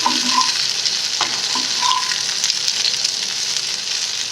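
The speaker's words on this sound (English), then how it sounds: "Mix it up and fry properly, saute it nicely, and I've kept it at a high flame." Okra (bhindi) sautéing in oil over a high flame gives a steady, close, dense sizzle, with a few soft stirring knocks near the start and no voices.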